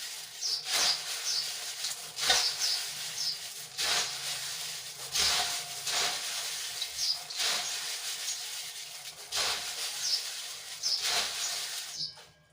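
Hands mix puffed rice (mamra) with garlic chutney in a bowl, making a close, dry, crisp rustling and rubbing. The strokes repeat in a steady rhythm of swishes about every second and a half, with no talk.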